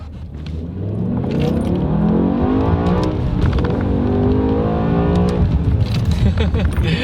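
A BMW E60 M5 with its V10 engine accelerates hard from close by, the revs climbing in a loud, rising howl with a shift partway through, and a voice speaks over it.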